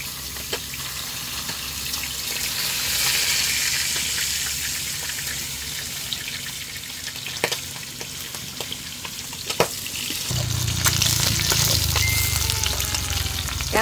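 Silver carp sizzling in a pan of hot oil, a steady loud hiss with occasional stirring clinks, growing louder toward the end as the frying intensifies.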